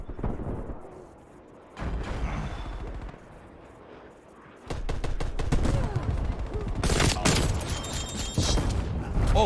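Rapid bursts of video game gunfire, loud and dense, crackling in clustered volleys with a quieter gap early on, then heavy sustained shooting and impacts through the latter half.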